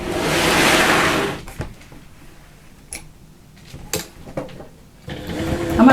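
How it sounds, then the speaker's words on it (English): A sewing machine top stitches across a fabric bag, sewing about 1/8 inch from the edge; a loud burst of motor whir opens, then gives way to scattered faint clicks and taps before a second run starts at the end. "So now I'm going to top stitch all the way across here. I'll just bring my machine in."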